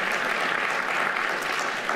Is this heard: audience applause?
yes